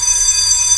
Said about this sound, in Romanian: This alarm is still working.